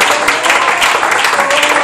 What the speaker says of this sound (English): Give the Lord a clap offering up for this place.